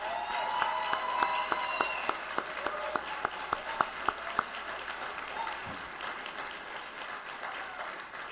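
Moderate applause from the audience at a Hood College Army ROTC commissioning ceremony for new lieutenants, with distinct individual claps standing out early on, then thinning into softer, more distant clapping.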